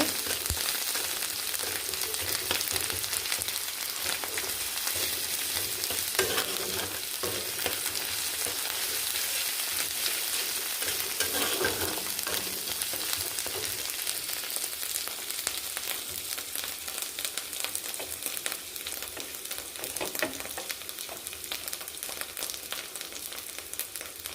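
Garlic paste and ginger paste sauté in a pan, giving off a continuous soft sizzle with occasional scraping stirs, moderately quiet and steady throughout, no talking.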